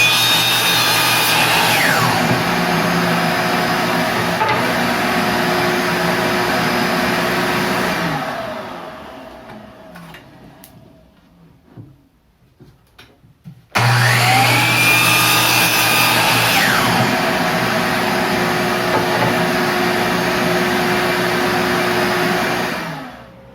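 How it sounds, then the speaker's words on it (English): A saw cutting 15-degree miters on the bottoms of wooden sawhorse legs: a loud, steady whine for about eight seconds, a quiet gap with faint clatter, then a second sustained cut that winds down. "I'll set the miter gauge to 15 degrees. And we'll cut a miter at the bottom of each one of these."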